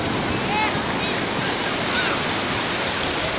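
Ocean waves wash onto a beach by large rocks in a continuous loud roar of surf, mixed with wind noise on the microphone.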